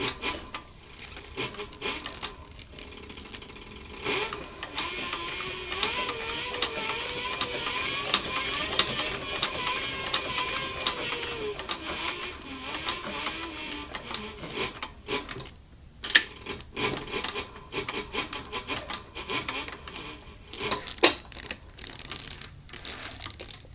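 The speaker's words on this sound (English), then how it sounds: "Pull my needle almost all the way up, and then pivot the piece around." Thick leather is hand sewn, with needle and thread drawn through in a long, steady, close rasping rub, followed by a few sharper taps and clicks.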